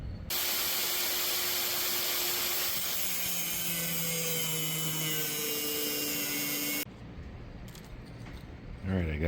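Continuous loud hiss of clear coat being sprayed onto metal dice for several seconds, then stopping abruptly, leaving quieter background noise.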